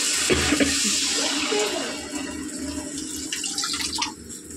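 Water pours into a pan of cooked-down spice paste for a fish curry, with plenty of fish oil in the pan. A loud, close gush and rush continues for several seconds, then trails off into bubbling and small splashes.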